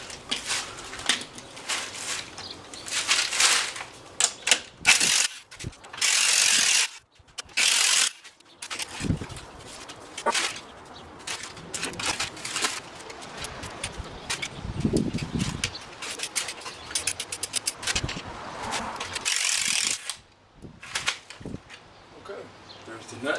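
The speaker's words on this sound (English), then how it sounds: "I like to use my little impact wrench" Impact wrench spinning off a strut nut on a Cadillac STS, giving loud bursts of rattling hammering separated by brief pauses, close up and dominant.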